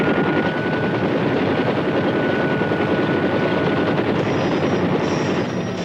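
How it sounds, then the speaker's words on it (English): Military helicopter gunships in flight over a Vietnam combat zone, a loud, steady rotor roar with continuous dense thumping filling the whole stretch, close and unbroken. "These choppers pack an impressive resource of firepower."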